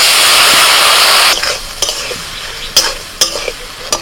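Spices with turmeric, salt, red chili powder and ginger-mustard paste sizzle loudly in a frying pan; steady frying hiss first, then quieter sizzling broken by several sharp scraping stirs, no voices.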